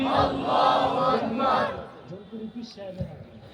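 Crowd at a religious mahfil gathering shouting together in reply to a takbir call, a loud massed roar of many voices for about a second and a half, then dropping to scattered quieter murmurs and movement.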